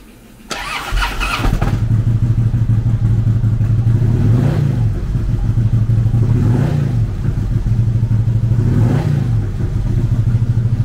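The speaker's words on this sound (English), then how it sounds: "In stock form, the Street Glide is powered by a 96 cubic inch V-twin motor" A 2008 Harley-Davidson Street Glide's 96 cubic inch V-twin fires up and settles into a loud, steady, lumpy idle, with a few rhythmic blips of the throttle revving it up and back down.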